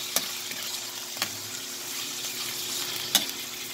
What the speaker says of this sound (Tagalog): Pretuhin muna natin yung ating pork belly mga lodi.